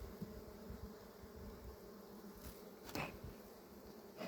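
Honeybees buzz steadily around a hive, a soft continuous drone with a brief louder swell of wingbeats partway through.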